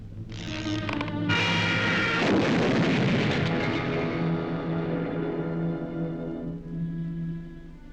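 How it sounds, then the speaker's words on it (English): Cartoon artillery fires on command in a wartime animated short, a loud burst of booming blasts and crackling that swells, then rumbles and fades away over several seconds. "You may fire when ready, Von Gridley."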